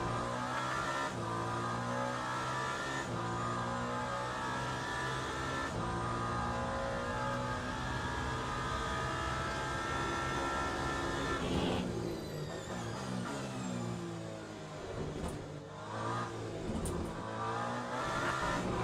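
A Toyota hypercar laps a circuit in a racing video game, its engine droning steadily and shifting pitch through gear changes, with brief tire scrub and revving toward the end, loud and continuous.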